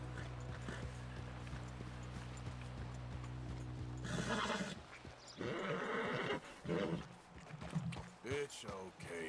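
A horse in Red Dead Redemption 2 neighs, with clip-clopping hooves, under a low game drone and a voice talking over it.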